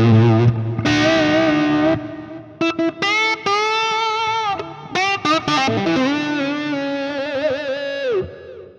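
An electric guitar lead on the treble pickup runs through an RCB-SH overdrive pedal, giving a loud, sustained distorted tone. Singing notes bend and glide in phrases, with short gaps between them, and no voices.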